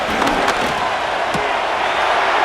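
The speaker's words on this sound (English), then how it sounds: "This crowd into it now as we get to 3rd down." Stadium crowd in the video game Madden NFL 25, during a Buffalo Bills vs Chicago Bears preseason game, roaring as a broad, steady wash of noise with scattered sharper shouts. No one speaks over it.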